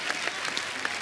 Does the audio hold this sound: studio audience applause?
yes